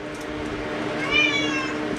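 A cat meows once, a short clear call rising over steady background noise in a room, with a musical hum underneath.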